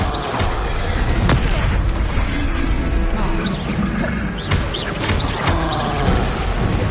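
A fire-blast spell detonates amid the clamor of a wizarding combat game, with booming blasts and crashes layered over continuous loud battle noise, magical whooshes, and music.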